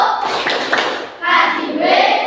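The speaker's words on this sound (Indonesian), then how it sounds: "Satu kali tepuk, wow." A class of primary school children gives a single burst of clapping on cue, loud and close, with a second short round following after a brief dip.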